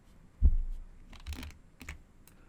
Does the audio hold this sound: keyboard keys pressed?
yes